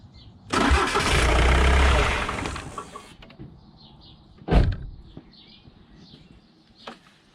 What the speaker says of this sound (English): See how I just briefly cranked it and just let it run for just about a second or two.